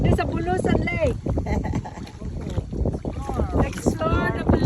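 Boat ride in a small bangka on Bulusan Lake, with steady wind and water rumble and people chatting and calling out over the motion of the boat.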